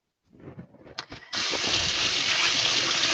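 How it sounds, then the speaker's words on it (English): Hands are rinsed under running tap water during kitchen meal prep. A few faint handling knocks give way to a loud, steady gush of water that continues to the end. "Quickly rinse my hands."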